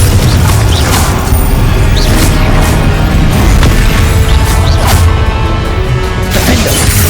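Glacius and Confringo spell blasts in Hogwarts Legacy land as a dense barrage of loud bursts, crashes and whooshing impacts, repeating in rapid succession with no gaps.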